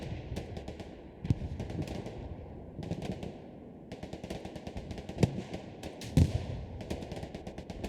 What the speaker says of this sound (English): You can start to hear the artillery breaking out as both teams come together in the midpoint.